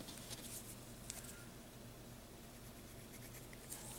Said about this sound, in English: Cut that with a knife.